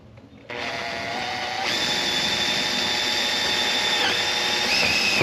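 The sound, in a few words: power drill drilling holes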